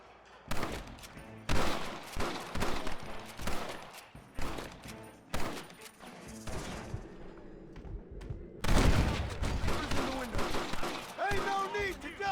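Gunfire in the Red Dead Redemption video game: repeated sharp shots and rapid volleys ring out in clusters across a firefight, with voices shouting between and under the bursts.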